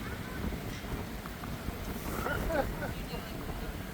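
Strong wind buffets an outdoor microphone in a steady, loud low rumble and roar that continues throughout, with faint voices buried in the noise.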